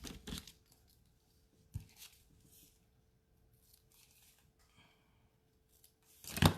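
Scissors trim the ends of craft paper with a few quiet, sharp snips and rustles spread across a mostly hushed stretch, ending in a louder crinkle.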